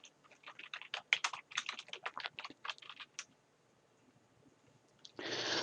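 Typing on a computer keyboard while entering a label into a Word 2013 SmartArt shape: a quick, close run of light key clicks for about three seconds, a pause, then a brief burst of steadier noise at the end.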